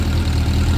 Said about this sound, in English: So I fired the bike up, and you can see it idles perfectly